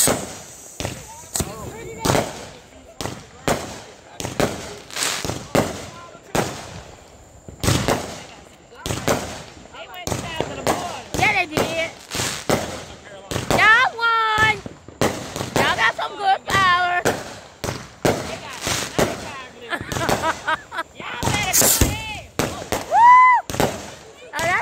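Fourth of July fireworks burst in a steady run of sharp, loud bangs and crackles, some overlapping, with whistling rockets rising between them and people talking and exclaiming throughout.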